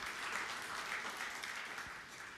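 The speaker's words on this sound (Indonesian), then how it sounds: "Tepuk tangan yang meriah bagi Tuhan Yesus." A church congregation claps in steady, dense applause that fills the whole stretch, sounding full and even, with no voices standing out above it.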